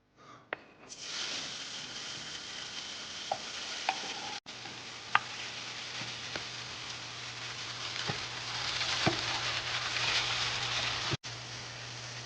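Chopped tomatoes sizzling in hot peanut oil as a spoon stirs them, a steady close frying hiss with occasional scraping clicks and a low hum partway through, and no talk.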